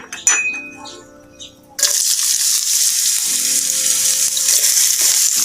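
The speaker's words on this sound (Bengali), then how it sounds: "তেলটা গরম হয়ে যাওয়ার পর এতে আমি অ্যাড করে দিব পরিমাণ মতো পেঁয়াজ কুচি" Chopped onion hitting hot oil: after a few clanks and a softer sizzle, a sudden loud, sustained hiss of frying that stays steady and close to the end.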